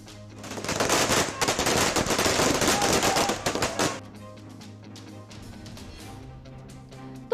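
Firecrackers set off by political party supporters celebrating across Tamil Nadu crackle in a dense, rapid barrage of loud bursts for about four seconds, then fade into sparser, quieter pops.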